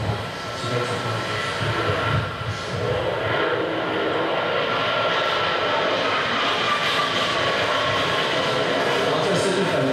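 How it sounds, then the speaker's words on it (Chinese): A Japanese fifth-generation fighter prototype on a test flight, heard as a loud, steady broadband engine roar that holds without a break from start to finish. "我们的第五代战机的模型机试飞成功哈"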